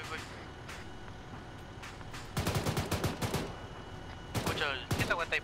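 Gunfire in Arma 3, scattered single shots early, then loud rapid bursts in two clusters, mixed with vehicle rumble and occasional talk underneath.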